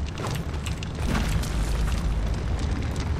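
A bomb blowing up in the Darksiders video game, a heavy low boom rolling into a sustained rumble with crackling debris, no talk.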